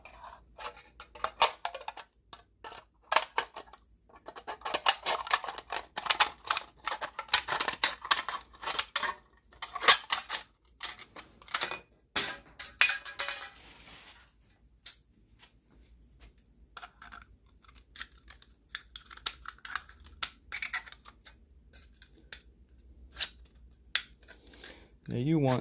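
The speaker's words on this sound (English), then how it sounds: "And then butcher it with the scissors." Scissors snip through thin metal while making a DIY alcohol stove, with bursts of quick crisp cuts and rattles followed by quieter handling sounds.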